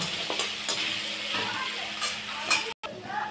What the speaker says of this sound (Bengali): দিয়ে আমি একটুখানি এই আলুগুলোকে একটু লাল লাল করে ভেজে তুলে নেব